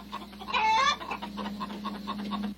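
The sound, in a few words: chicken clucking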